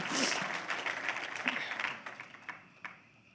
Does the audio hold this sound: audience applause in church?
yes